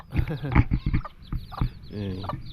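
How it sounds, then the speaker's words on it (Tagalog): Chickens in a pen clucking and squawking close by, a busy run of short, choppy calls with a few longer cackles, under faint background noise. "Ito po pa yung mga iba nating manok."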